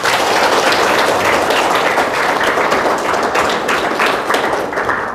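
Loud, dense applause from an audience of high school students at a school seminar session, sustained clapping filling the whole span with steady intensity, tapering slightly at the end.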